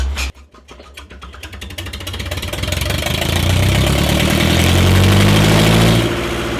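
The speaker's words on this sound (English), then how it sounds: "A low, steady diesel pulse, the distinctive signature of vintage mechanical endurance." A vintage Lister FR4 diesel engine runs close by and loud, starting with sharp irregular firing pulses that settle into a steady low thudding rhythm, growing louder and fuller before easing slightly at the end.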